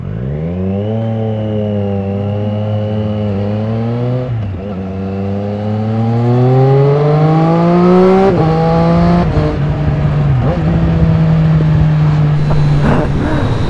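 A 2020 Triumph Street Triple RS motorcycle accelerates hard, its engine note climbing steadily in pitch through the gears with brief dips at each shift, loud and close throughout.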